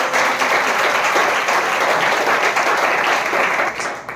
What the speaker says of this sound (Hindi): एकदम अच्छा से ताली बजा।